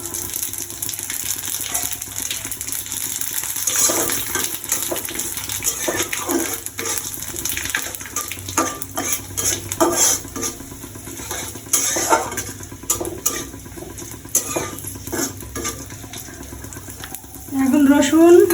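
Cumin and black cumin seeds dropped into hot oil already holding bay leaves and dried chillies in a rural Bengali kitchen, frying for lentil dal: crackling sizzle with clinks of utensils and pan, fairly loud, with voices heard at times.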